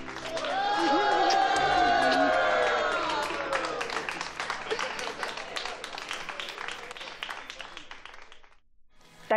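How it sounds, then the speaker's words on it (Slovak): Warm applause from a crowd in Verona, steady clapping that fades slowly, with a loud cheering voice over the start. "A tento potlesk"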